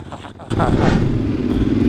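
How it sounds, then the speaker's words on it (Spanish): A Yamaha Tenere motorcycle fitted with a dB killer barks loudly from its exhaust, a sudden burst of throaty engine noise after a short quieter stretch, close by. "Me gusta el escape de Ray y eso que lleva un DB Killer, pero ¿cómo le da ese sonidito?"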